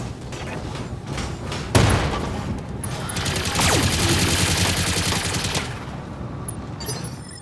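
Mech combat in BattleTech with small laser and machine gun fire, a loud volley of rapid shots and impacts, one sharp bang early, then a sustained burst of firing that tapers off.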